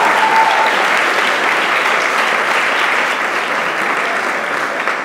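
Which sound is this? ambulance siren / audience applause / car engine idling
audience applause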